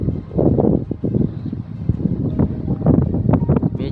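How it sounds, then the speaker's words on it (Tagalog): Strong, cold wind blows at a campsite during motorcycle camping, a loud, continuous rumbling buffet with gusts and wind noise hitting the microphone throughout. "Tapos ang lakas pa ng hangin."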